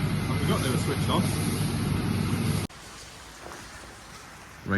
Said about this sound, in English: It's pouring it down.